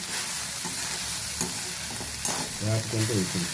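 Prawns and okra stir-fry in a hot pan, a loud continuous sizzle broken by a couple of scraping stirs and a bubbling spatter near the end.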